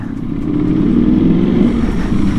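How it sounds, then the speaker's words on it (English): A 1100cc Ducati V4 motorcycle with a dry clutch and an SC-Project full titanium exhaust gives a steady, deep, loud engine rumble close by, sounding alone throughout. "The sound of this 1100cc Ducati V4 with the dry clutch and SC-Project full titanium exhaust system"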